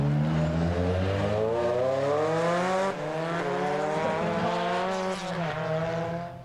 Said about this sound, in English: Bertie Fisher powers his Cosworth Sierra inside the Group N version of Gwyndaf Evans.